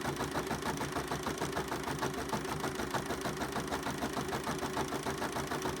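A Bernina 5 Series sewing machine with embroidery module stitching a design, a steady fast mechanical whirring and rapid needle chatter, close and continuous without pause.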